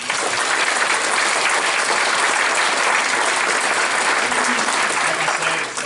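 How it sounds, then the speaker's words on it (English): An audience gives high school graduates a sustained round of applause, a dense, steady wash of many hands clapping with no break for several seconds. "let's give them a round of applause"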